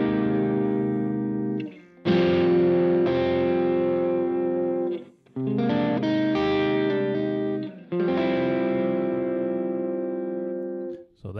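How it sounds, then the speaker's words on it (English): Electric guitar played through a VVT X-40 amp with the guitar's volume cranked for more gain, ringing distorted chords in several long sustained strums that decay between hits, loud and alone. "If I went to crank my guitar about 9, it would be a lot more gainy"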